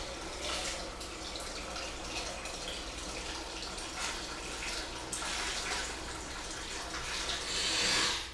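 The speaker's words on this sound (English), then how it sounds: "So I just go ahead and fill it up. We're going to use hot water." Hot water pouring into a sugar syrup mixer tank, a steady, soft rushing and splashing that runs throughout at low level and swells slightly near the end.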